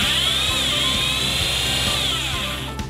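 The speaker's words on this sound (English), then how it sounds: "Use an 8mm drill bit to drill holes." Power drill with an 8mm bit boring holes into a wall, a steady high whine running continuously and close, easing off near the end.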